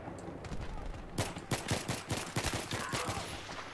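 Pistol shots in Battlefield 3 crack out in a quick irregular burst of about a dozen sharp reports after a brief lull, loud and close, with other battle gunfire mixed in.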